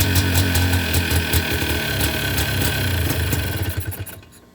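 A 2004 Yamaha Blaster ATV engine runs with the choke on and a suspected carburetor issue: a loud, close, throbbing two-stroke putter with uneven pulses that fades out near the end, with no talking.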